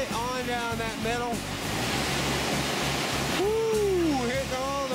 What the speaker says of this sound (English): Hitting all those big waves.